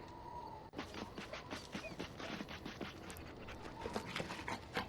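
Steady rhythmic panting from a dog in Dragon Age Origins, a quick breathy pattern running through the whole stretch at moderate level with no talk over it.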